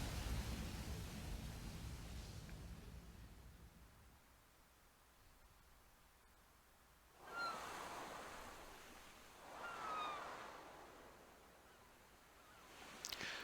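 Ocean waves in the Link's Awakening game wash in and out, with a loud rush at first, then two swelling surges a few seconds apart over steady soft surf, with faint bird-like honks on the swells.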